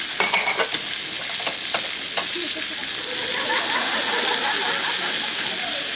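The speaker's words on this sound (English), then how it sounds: "Give that a mix together." Celery is stirred around a hot frying pan, with scraping, clattering strokes of the utensil early on over a continuous loud sizzle that swells into a steady hiss toward the end.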